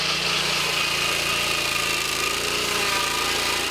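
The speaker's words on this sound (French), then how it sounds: "notamment une scie mobile et des tronçonneuses" Chainsaws and a mobile sawmill run in a Cameroonian community forest, giving a steady, loud motor drone with a buzzing whine and no pauses throughout.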